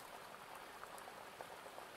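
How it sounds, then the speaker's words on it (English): Steady rain falls on a small grassy clearing in a forest, a dense, even patter with scattered louder drops, no voices present. "the sound of the rain on the slight meadow area that you're crossing"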